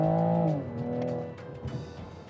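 A 2020 Toyota Supra GTS at full throttle, loud close engine note rising then dropping with a gear change and pulling hard again, heard from inside the car.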